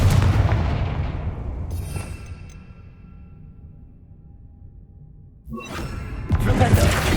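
Confringo blasting spell in Hogwarts Legacy, a heavy booming blast that rolls off into a long fading rumble, followed by a fresh burst of loud noise near the end.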